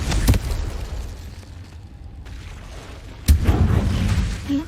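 Two sharp fiery blasts of the Confringo spell in the game Hogwarts Legacy, one near the start and a louder, longer burst around three seconds in, over a low cave-like rumble with no talk.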